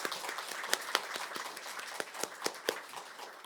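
Scattered clapping from a church congregation during a Sunday worship service honoring course graduates, thin and uneven with a few sharper individual claps standing out, moderately quiet and fairly close.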